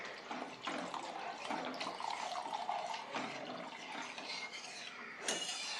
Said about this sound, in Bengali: এবার দিয়ে দেবো আমি পরিমাণ মতো জল।